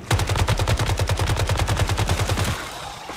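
Rapid automatic gunfire from the player's weapon in the survival shooter Once Human, a steady burst of evenly spaced loud shots for about two and a half seconds, then cutting off to quieter game ambience.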